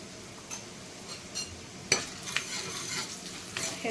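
Spices with fenugreek seeds, asafoetida and turmeric sizzle in hot oil for Maharashtrian kadhi, a steady frying hiss with a few soft clinks of a stirring spoon, close and without voices.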